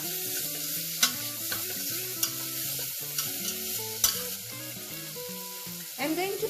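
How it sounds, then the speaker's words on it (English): Asafoetida (hing) sizzles in hot oil in a pan while a spoon stirs it, with a steady close frying hiss, scraping strokes and sharp clinks of the spoon against the pan over music. "Mix it till it becomes a little bit light in color,"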